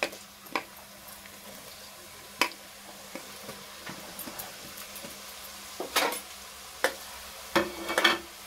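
Chopped garlic and ginger fry in a pan, a soft sizzle underlying scattered sharp clicks and utensil taps against the pan, fairly quiet and close with no talking.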